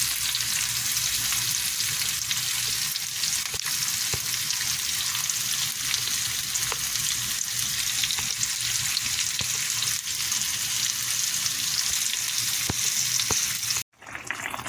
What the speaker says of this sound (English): here you have the coconut milk on the stove, and go to cover right now to let it boil